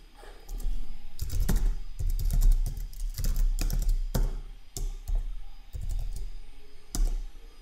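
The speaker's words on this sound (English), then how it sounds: "I will type in my password" Steady typing on a computer keyboard, close up, a fast uneven clatter of keystrokes with brief pauses and no voices.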